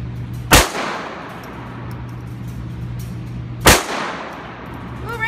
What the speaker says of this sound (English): Shooting the gun out of his hand.